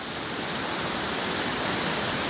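White-water river rapids at Ohiopyle roar steadily in a dense, unbroken rush of churning water, loud and constant, with rafters passing through and no voices heard.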